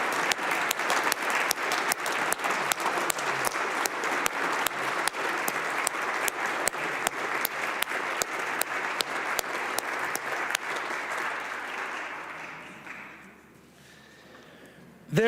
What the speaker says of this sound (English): Members, let's rise and give them a round of applause.